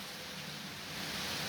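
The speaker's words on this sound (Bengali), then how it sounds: "প্রচুর ঝড় বৃষ্টি বয়ে যাচ্ছে নারায়ণগঞ্জের উপর দিয়ে।" Heavy Kalbaishakhi storm rain with thunderstorms pouring over Narayanganj, a dense, steady hissing roar that holds evenly throughout with no voices.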